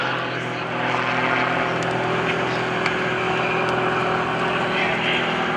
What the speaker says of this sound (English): Greg Connell rolling his airplane all over the place.